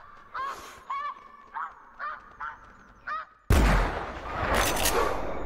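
A rifle shot fired at a bison in theHunter Classic bursts loud and sudden after a run of goose-like honking calls, its broad roar lingering and swelling again as the report decays.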